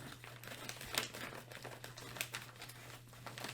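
Faint crinkling and rustling of packaging material, with irregular crackles and small tearing sounds, close by and with no talking.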